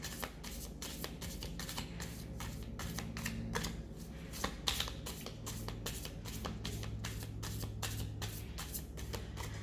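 A deck of tarot cards is shuffled by hand in a steady run of quick riffling flicks and soft slaps, close and fairly quiet, with no talk.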